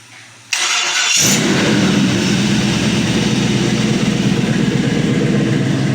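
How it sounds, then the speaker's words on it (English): A 5.3L LS truck engine on a test stand cranks briefly, then catches and fires into a loud, steady idle that keeps running close by without pause, and no one speaks. "I'm going to hit my fuel pump and let's crank this up"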